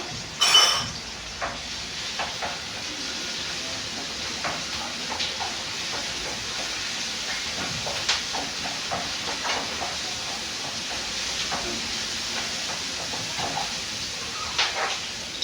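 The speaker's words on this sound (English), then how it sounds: "because we are steaming the vegetables, we are not cooking them" Vegetables steaming in a pan with ginger and garlic paste, giving a steady broadband hiss with occasional faint clinks and small crackles, continuous and close throughout with no talking.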